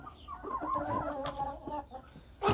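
Free-range domestic chickens cluck in a farmyard, a busy run of soft, overlapping clucks at moderate distance, with a sharper call at the end.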